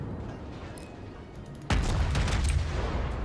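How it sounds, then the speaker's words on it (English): Naval gunfire in World of Warships from a Cleveland cruiser, a quiet hum broken by a sudden loud salvo, then a rolling burst of rapid booming shots that stays loud to the end. "We're gonna fire on him."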